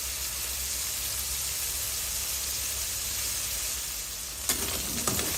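Pork sizzles and fries steadily in a hot pan for a Thai stir-fry of purple eggplant with pork, a constant close hiss with a few sharper crackles and stirring clatters near the end.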